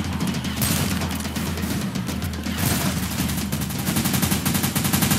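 Rapid, sustained automatic gunfire in Left 4 Dead 2 during a swamp level, dense and loud bursts repeating close up almost without pause.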